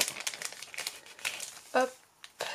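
A plastic packet holding corner pieces is opened, giving a few seconds of close, quiet crinkling and rustling with one sharper tearing crackle near the end.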